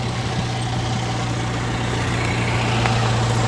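A Massey Ferguson MF 240 tractor fitted with an MF 232 loader idles close by, a steady low diesel drone with a strong constant hum that holds level throughout, and no voices over it.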